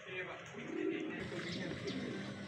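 Racing pigeons coo softly and repeatedly at a club training session for a race, with someone talking over the birds.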